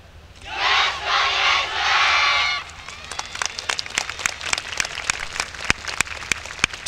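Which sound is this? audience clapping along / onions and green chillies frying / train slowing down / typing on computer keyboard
audience clapping along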